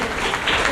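Enthusiastic applause from the audience at a children's debate event, a steady wash of clapping that swells slightly toward the end of the short burst.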